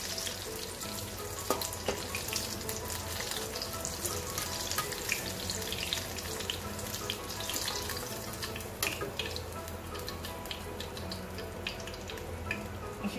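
Food frying in hot oil over a high flame, a continuous soft sizzle and crackle at moderate level, steady with no voices.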